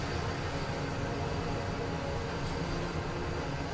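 Propeller airplane engine in Microsoft Flight Simulator, a constant even drone with a dense broadband hum and faint high whine, steady loudness throughout, no speech.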